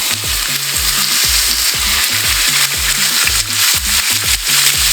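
Chorizo sizzles in olive oil and ghee in a pan over medium heat, a loud steady frying hiss broken by repeated scraping stirs of a spoon, with no talking.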